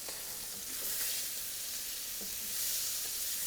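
Lingcod fries in butter in a saute pan, giving a steady, soft, hissing sizzle with faint crackles and light stirring sounds, with no talking.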